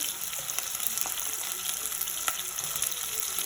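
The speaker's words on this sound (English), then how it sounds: "You hear that sizzle? That's exactly what we're looking for." Onions sizzle and crackle steadily in a hot pan, with a few soft stirring taps, close up and with no talking.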